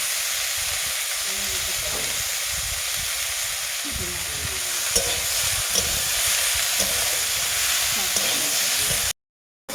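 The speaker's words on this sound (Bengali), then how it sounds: "ডুমুর আলু আর মশলা কি সুন্দর কষিয়ে নিয়েছি" Potato, fig and spices sauté in a pan, a loud, steady hissing sizzle close up with occasional stirring scrapes, until the sound cuts off abruptly near the end.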